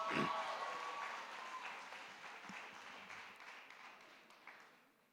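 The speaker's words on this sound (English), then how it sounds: "They deserve another round of applause, please." At a university graduation ceremony in Keetmanshoop, the audience gives another round of applause, a dense wash of clapping that starts strong and gradually thins and fades over about five seconds.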